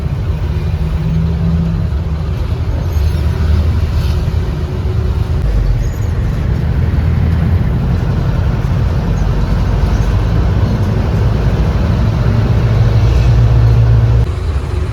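Inside a moving green intercity bus on the Surabaya to Mojokerto route, with its engine at the front, a loud, constant low engine rumble and road roar fill the cabin without a break.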